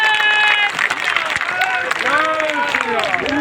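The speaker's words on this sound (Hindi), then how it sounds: "एक बार तालियां बजाकर बैजनाथ रावत जी का स्वागत करो मित्रों" A crowd at a political gathering claps to welcome a senior leader, a steady dense applause with voices and shouts layered over it throughout.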